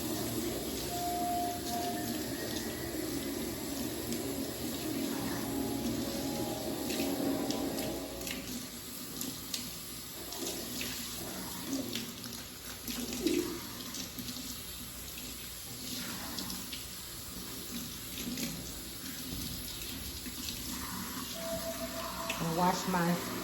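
Steady tap water runs continuously into a sink while a raw hair closure is rinsed out, a constant hissing, splashing flow that lasts throughout.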